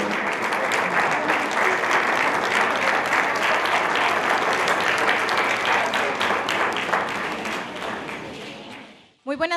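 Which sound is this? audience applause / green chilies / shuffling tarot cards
audience applause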